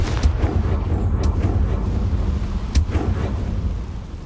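In the video game Hogwarts Legacy, a Confringo blasting spell explodes with a heavy, deep, rumbling roar that fills the whole stretch. Several sharp cracks punch through the roar, and no voices are heard.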